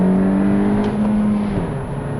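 A 2017 Honda Civic Hatch Sport with a manual gearbox pulls under hard acceleration, its engine drone steady and rising slightly before dipping near the end, heard close and loud with no talking.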